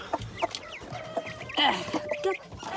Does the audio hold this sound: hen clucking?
yes